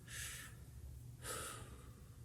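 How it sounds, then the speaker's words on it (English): Two slow, audible breaths, an inhale then another about a second later, close and soft during a calming tapping exercise, with no talk over them. "let's just take one more deep breath before we let this go"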